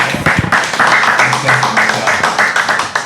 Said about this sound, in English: Clap it up for Cam one time.